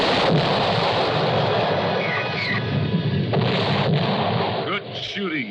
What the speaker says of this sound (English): Good shooting, Taurus.